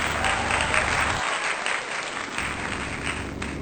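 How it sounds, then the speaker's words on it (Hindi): An audience applauds in honour of Laxman Singh Pangtey at a memorial introduction, a dense wash of many hands clapping steadily and fairly loud throughout, with no voices over it. "तो एक बार जोरदार तालियां लक्ष्मण सिंह पांगती लस्बू के लिए।"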